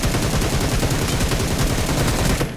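Rapid automatic gunfire in the mobile battle-royale shooter BGMI (Battlegrounds Mobile India), a dense, unbroken burst of loud shots lasting over two seconds before cutting off.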